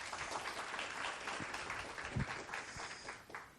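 An audience applauds a speaker as they are introduced at an education conference, a steady, dense wash of hand-claps that fills the room evenly for several seconds at moderate distance.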